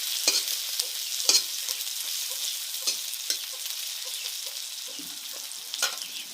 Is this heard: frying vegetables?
yes